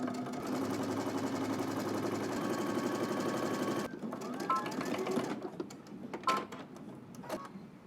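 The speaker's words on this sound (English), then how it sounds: "we're going to head back to the sewing table and stitch all the way around using 3/8 of an inch seam allowance" A sewing machine runs fast and steady, stitching a 3/8 inch seam allowance around a garment, then stops, leaving a few faint clicks and handling sounds.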